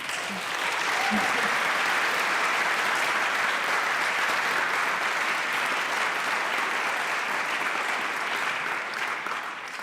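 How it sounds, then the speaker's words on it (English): Sustained applause from a large audience at the European Charlemagne Youth Prize ceremony in Aachen fills the whole stretch, loud and even, a dense wash of clapping with no pauses. "So big applause."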